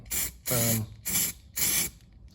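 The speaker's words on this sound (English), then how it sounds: "That's just a spray primer." Spray primer hisses from an aerosol can onto a welded patch on a Golf Mk2 car body, coming in four short bursts of about half a second each, close and loud, with brief silences between.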